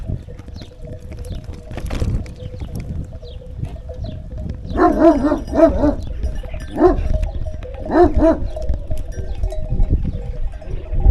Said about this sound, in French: Viens là mon toutou.